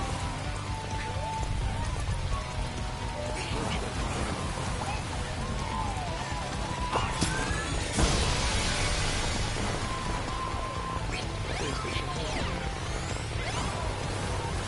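Steady rain pours down in a video game, a dense continuous hiss of drops on surfaces with a few faint clicks and tones layered underneath, holding an even loudness throughout.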